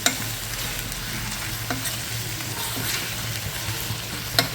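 Sweet potato slices with jaggery sauté in a pan, a continuous close sizzle with occasional spatula scrapes and a couple of sharp knocks, no speech.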